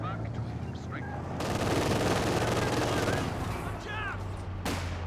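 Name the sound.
gunfire in the video game Company of Heroes 2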